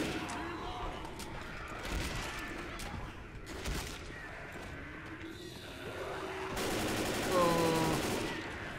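Gunfire in Left 4 Dead: repeated sharp shots crackle through the opening seconds alongside game sound effects, with people talking over the action.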